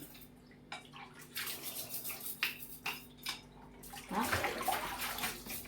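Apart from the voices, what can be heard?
water running while washing dishes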